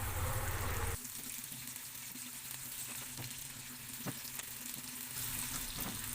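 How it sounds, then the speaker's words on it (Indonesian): Shallots sauté in a frying pan with a steady close sizzle and occasional stirring clicks, louder for the first second and then settling into a softer, even frying hiss. "Lalu setelah itu tumis bawang merah, tumis sampai setengah layu aja ya."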